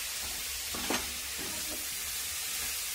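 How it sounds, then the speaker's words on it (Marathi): Cauliflower frying in a pan as a dry Indian-style vegetable dish is stirred, a steady close sizzle with a few soft scraping strokes of a spoon, no talking. "त्याला आता मस्तपैकी हलवून घेऊ."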